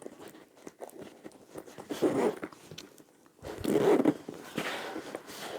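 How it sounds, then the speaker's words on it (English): A zipper fitted with a cord pull runs along a lined vinyl boxed bag in two close, scratchy pulls with small handling rustles between them. "They just go into the end of your zip and give you something extra to hold on to."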